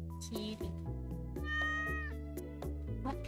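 Repeated short meows from a cat in Stardew Valley, several in quick succession with one longer drawn-out call, all over background game music.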